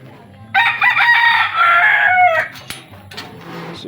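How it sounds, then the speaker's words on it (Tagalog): Chickens crow loudly and close by at a pigeon loft, one rooster call drawn out for about two seconds, then fainter clucks and scattered farmyard noise, with a little background talk. "Ingay ng manok"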